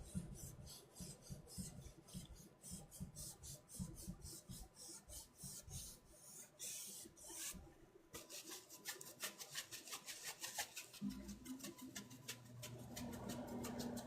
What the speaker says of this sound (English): And then rub that paint out again.